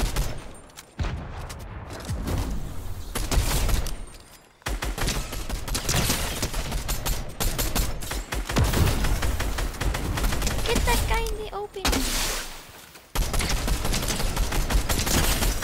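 Rapid bursts of gunfire crackle almost nonstop in a 3v3v3v3 shooter video game with building, loud and dense, with a few short gaps between volleys.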